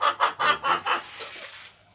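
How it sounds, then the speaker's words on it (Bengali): A hen clucks five times in a quick regular rhythm while calling and searching for a place to lay, close and clear, then trails off into quieter murmurs. "এটা ডিম পারবে বলেও ডেকে বেড়াচ্ছে, বসার জায়গা খুঁজছে"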